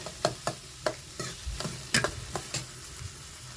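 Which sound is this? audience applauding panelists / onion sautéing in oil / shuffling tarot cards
onion sautéing in oil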